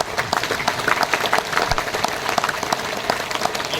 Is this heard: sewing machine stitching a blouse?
no